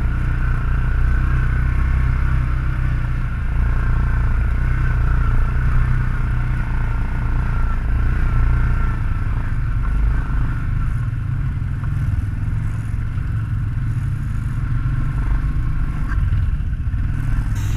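Engine of a 2008 Yamaha Grizzly 700 ATV riding along with other ATVs, a steady, loud low drone with rumbling and clattering running unbroken throughout, no talk.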